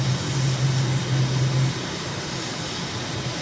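An airplane in Microsoft Flight Simulator climbs out after takeoff from Incheon, South Korea, with a steady roar of engine and wind. A low drone fades partway through, and no one speaks.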